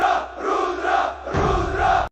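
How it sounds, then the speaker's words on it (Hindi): A village wrestling crowd at a dangal chants a slogan together in rising and falling waves of massed voices, loud and close, cut off abruptly at the end. "भीड़ से एक साथ नारा उठा।"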